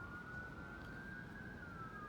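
Emergency vehicle siren wailing steadily outside across the street, a continuous rising and falling tone over low traffic rumble, moderately distant.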